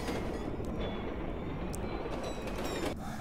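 Heavy rumble of a train rolling through a Plants vs. Zombies: Garden Warfare 2 match, a steady loud low roar with faint metallic creaks riding on top and no talk.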